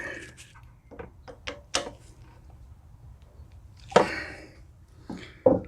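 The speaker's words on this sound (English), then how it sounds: "Just tighten those down with my T30 Torx screwdriver" A T30 Torx screwdriver tightens screws on a Karcher pressure washer unloader valve, giving a few sharp scraping clicks and short metallic turns spaced irregularly, close by and otherwise quiet.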